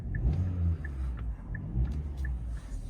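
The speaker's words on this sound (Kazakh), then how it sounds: "Мотордың иштеши өтө жакшы." A 2018 Kia K5 with a 2.0-litre gas engine runs at a steady idle, a close, low rumble with faint periodic ticks above it and no talking.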